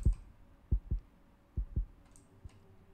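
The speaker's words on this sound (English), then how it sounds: "I heard a heartbeat for a split second." A heartbeat plays inside a Roblox game: muffled, low double thumps in two quick pairs, then a single softer beat, over faint background hum.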